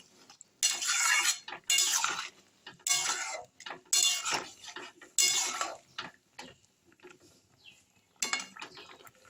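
A spoon scraping and stirring rohu fish curry with cauliflower in a pan, about seven distinct bursts of metallic scraping in an uneven rhythm, close by with quiet gaps between strokes.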